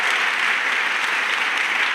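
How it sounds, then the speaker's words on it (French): A congregation at a church service applauds Jesus Christ, a thick continuous roar of many hands clapping at steady volume. "Acclamation à Jésus-Christ."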